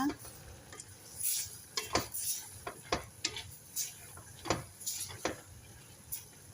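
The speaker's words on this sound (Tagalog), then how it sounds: "Atin nang bubuksan ang ating nilutong karsya." The lid coming off a cooking pot of kare-kare, clattering and clinking of metal lid and utensils against the pot in a series of sharp taps and knocks, fairly quiet with no talk.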